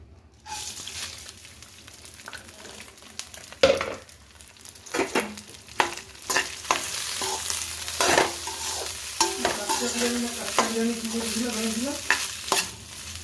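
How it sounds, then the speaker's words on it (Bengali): Rice stirred and fried in oil with fried onions and a potato for biriyani, giving a steady close sizzle broken by repeated scraping and clinking stirs of a spoon against the pan; no talking. "চালটাকে একটু তেলের মধ্যে নাড়িয়ে নেব"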